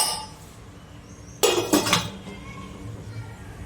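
A metal plate is set down over a dish of steaming idli batter pakoda, giving a brief, close clatter of two or three quick metallic clinks against a quiet kitchen background.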